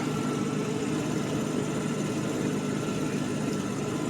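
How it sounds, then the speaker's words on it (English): A steady mechanical drone with a whirring hum from the air pump runs continuously under an idling V12 engine of a 1995 Mercedes S600 AMG, close by and unchanging throughout. "That's the air pump."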